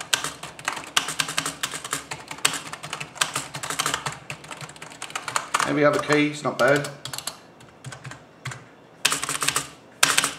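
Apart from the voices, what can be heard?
typing on the Mad Catz S.T.R.I.K.E.7 gaming keyboard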